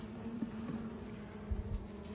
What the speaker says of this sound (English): And look at how calm these bees are.